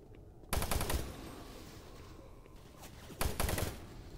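Rapid automatic gunfire from the shooter game Doom 3 comes in two loud bursts about three seconds apart. Quieter game ambience fills the gap between them.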